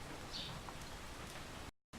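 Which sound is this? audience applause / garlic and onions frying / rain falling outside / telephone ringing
rain falling outside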